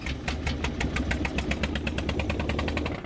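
The pony motor of a Caterpillar D8 bulldozer runs with a loud, close, rapid and steady chugging knock, its regular firing pulses repeating evenly throughout.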